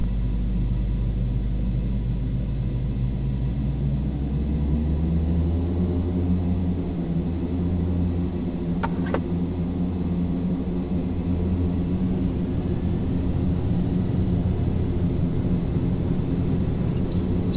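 Simulated Fokker 50 turboprop on its takeoff roll, a loud steady engine drone and deep rumble that climbs slightly in pitch as it builds, with a couple of brief clicks partway through and no voices.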